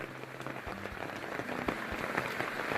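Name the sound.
water rushing fast after heavy rain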